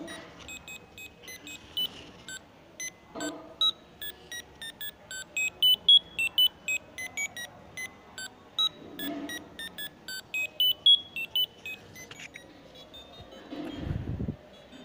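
An Arduino buzzer beeps out the Super Mario theme as a faint, thin sequence of high electronic tones in a quick melodic rhythm over background hiss, with a brief thump near the end.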